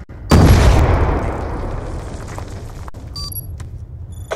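A grenade detonates in a search-and-destroy round of a first-person shooter game, a loud close boom with a long rumbling decay, followed by faint game interface beeps and tones.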